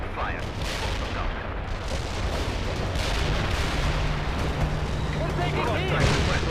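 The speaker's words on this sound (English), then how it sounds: "Heavy artillery strike fire." A heavy artillery strike rumbles and booms continuously in the World in Conflict battle, a loud, dense barrage of explosions and gunfire with a constant low roar and radio-style voices in the mix.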